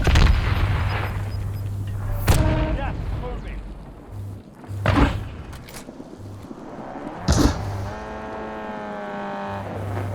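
Precision airstrike explosions in Call of Duty Warzone, several heavy booms landing a couple of seconds apart under loud engine rumble, with players talking throughout.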